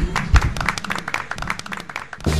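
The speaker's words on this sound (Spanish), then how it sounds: "yo creo que para seguir la tónica hay que despedirse con un aplauso" An audience applauds to close a radio show, with brisk, fairly close clapping throughout and a few louder bursts near the start.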